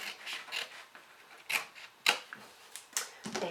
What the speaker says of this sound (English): So I'm going to cut this one.